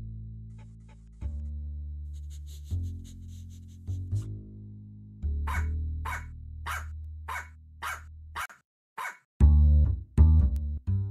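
A dog barks repeatedly at a mouse or rat indoors, sharp close barks in an irregular series with panting and rustling between them, growing louder toward the end.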